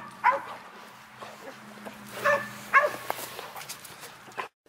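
A hunting dog outdoors gives a few scattered barks and yips, moderately near, spaced irregularly over a low steady background hum.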